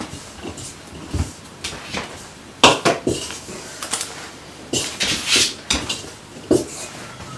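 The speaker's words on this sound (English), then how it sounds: "I will also give that a little stir just to incorporate the flour into the fats" A utensil scrapes and knocks around a bowl while flour is stirred into fats for Cornish pasty pastry, giving irregular clinks and scrapes in short bursts with quiet pauses between.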